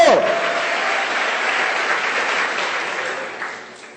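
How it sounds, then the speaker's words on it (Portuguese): A church congregation at a Sunday service breaks into loud, dense applause that holds steady, then tapers off toward the end. A voice is briefly audible over it. "Se é para Jesus esse aplauso, pode ser mais forte."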